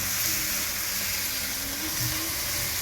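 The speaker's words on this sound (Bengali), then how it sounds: "আদাটা একটু ভেজে নিতে হবে, তা না হলে মানে কাঁচা গন্ধটা থেকে যায়" Ginger fries in oil in a pan, making a steady, even sizzling hiss that holds through the short stretch. It is moderately loud, with no speech over it.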